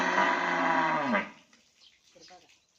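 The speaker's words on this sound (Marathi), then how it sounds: "ही आमची एक गाय आहे गावरान गाय" A desi village cow lets out one long, loud moo close by that falls off abruptly, followed by quiet with faint murmuring.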